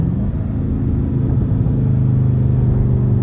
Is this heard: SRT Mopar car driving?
yes